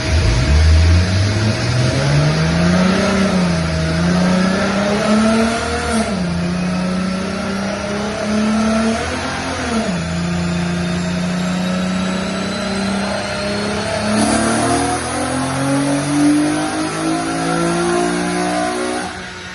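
A modified car engine revs hard through a dyno pull, its pitch climbing steadily with a couple of brief dips at shifts, loud and continuous from start to finish, with no talking.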